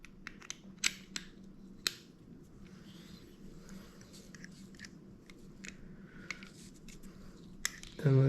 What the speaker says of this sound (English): So the handle screws on just like that.